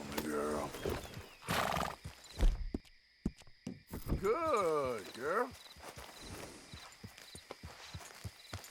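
A Missouri Fox Trotter horse in Red Dead Redemption 2 gives a loud whinny, followed by a run of clip-clopping hooves, with a voice speaking over parts of it.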